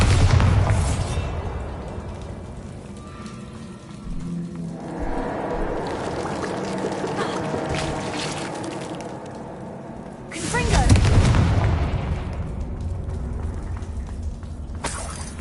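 A Bombarda blasting spell in Hogwarts Legacy erupts with heavy booming explosions and crumbling debris, one blast at the start and another louder one later, over rumbling game ambience.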